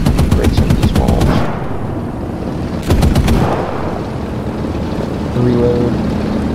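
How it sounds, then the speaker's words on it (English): Video game machine gun emptying a full magazine in two loud rapid bursts of evenly spaced shots with a dull rumbling tail, then a softer mechanical click and hum near the end. "Empty my magazine real quick."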